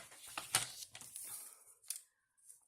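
Scissors cutting paper for wedding cards decorated with stickers, a few close, crisp snips and rustles that trail off into quiet.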